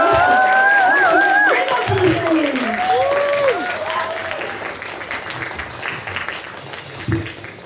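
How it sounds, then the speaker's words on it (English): A stand-up comedy open-mic audience claps and cheers loudly in a dense burst that slowly thins out, with whoops and shouts on top and scattered voices heard near the end. "If you can start clapping and cheering"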